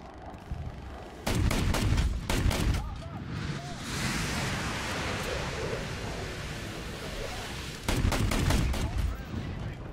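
In War Thunder, a Stridsfordon 90C's 40mm autocannon fires in two loud, rapid bursts of heavy thumping shots separated by a stretch of rushing rumble, with a player talking in between.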